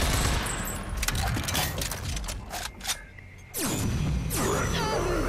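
Gunfire from a weapon in the video game RAGE 2: several sharp bursts and shots in quick succession, loud and close, with a brief pause before a final heavy blast, no talking.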